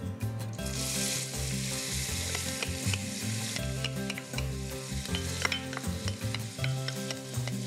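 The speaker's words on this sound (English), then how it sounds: "You need enough oil to make sure that your onions saute nicely." Onions sautéing in warm sunflower oil in a pot for chili, a steady loud sizzle running throughout with repeated stirring scrapes and clinks over a low hum.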